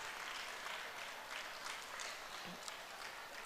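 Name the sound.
audience applause greeting guest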